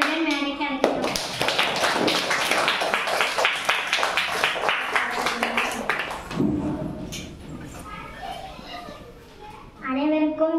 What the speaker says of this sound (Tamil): இப்பொழுது படிப்பை பற்றி பேச ஸ்ரீ கனிஷ்கா அவர்களை பலத்த கைத்தட்டலுடன் மேடைக்கு அழைக்கிறோம்